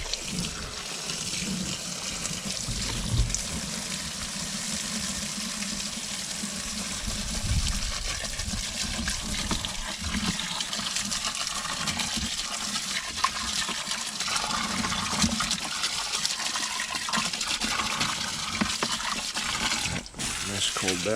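Water runs steadily from a tap into a tub being filled to wash lettuce on a farm, a constant close rushing splash with a faint voice in the background.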